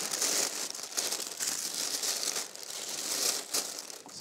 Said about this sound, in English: So much paper.